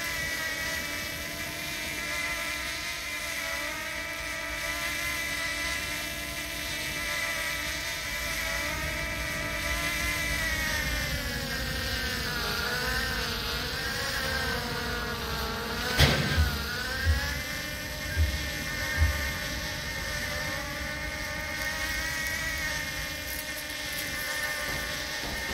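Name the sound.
drone flying in CS:GO Danger Zone, a video game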